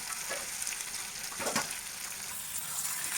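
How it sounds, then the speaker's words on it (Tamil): Sliced onions sizzle and crackle steadily in hot oil in a pan while being sautéed for tomato chutney, a close, continuous frying hiss with a few brief stirring scrapes and no talking. "வெங்காயம் நல்லா வணங்கட்டும்"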